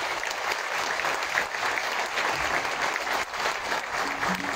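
Warm, sustained applause from an audience at a medal ceremony, a dense steady clatter of many hands lasting throughout without pause.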